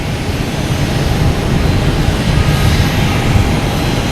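A Spirit Airlines jet pushing back from the gate at Boston Logan, a steady broadband engine roar holding loud and even throughout with no talk over it.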